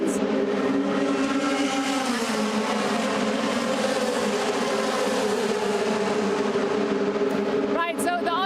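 DTM race cars scream past at the Spielberg circuit, a continuous loud high-revving engine roar that fills the whole stretch, with a brief burst of other noise near the end.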